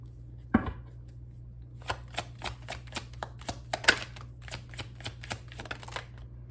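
Tarot card deck being shuffled close by, a sharp snap followed by a run of quick, crisp riffling clicks in an uneven rhythm over a low steady hum.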